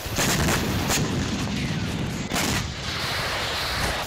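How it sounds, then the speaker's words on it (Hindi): Rocket strike on Haifa, Israel, in news footage of a Hezbollah attack: a dense, sustained roar of blasts and booming fire fills the whole clip at full loudness, with no clear break and no voices. "इसराइल के हाइफा पर हिजबुल्ला का हमला रॉकेट अटैक से हाइफा को दहलाने का दावा"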